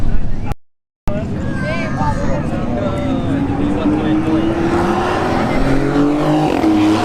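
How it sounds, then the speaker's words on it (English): A Corvette C6 and a Porsche 911 launch side by side at a drag strip, loud engines roaring and revving with rising pitch as they accelerate away, under continuous announcer commentary. "this is a close matchup here between the C6 and the Porsche"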